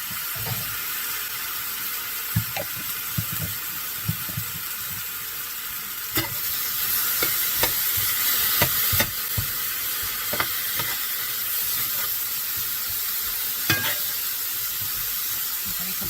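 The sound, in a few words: garlic sizzling in cast iron pan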